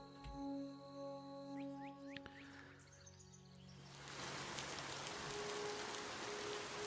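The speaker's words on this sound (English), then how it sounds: "that sounds like rain to me" Rain falls in the video game Alaska Gold Fever, a steady, soft hiss that swells in after a few faint bird chirps and quiet tones, then holds evenly to the end.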